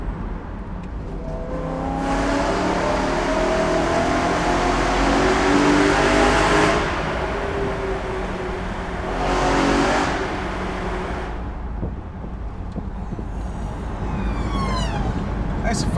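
A BMW E9x M3 with its S65 V8 and a carbon fibre intake revs hard and loud in a tunnel, the roar surging and fading in waves while two people chat over it.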